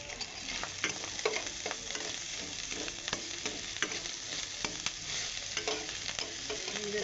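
Whole cumin seeds sizzle and crackle in hot oil at one side of a pan, cooked for a Bengali vegetarian taro and moong dal curry; a steady close frying hiss with scattered pops and spoon scrapes, no voices.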